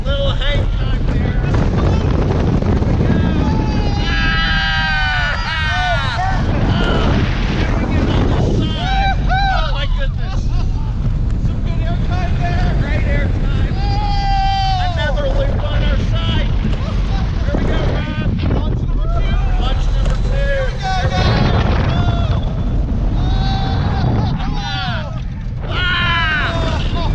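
Loud, constant wind rushing past on the Time Traveler roller coaster at Silver Dollar City, with track rumble underneath and riders shouting and talking throughout the fast run.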